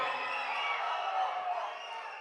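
An audience at the Mandaadi film audio launch cheers and shouts, a dense sustained roar of crowd noise heard at a steady level.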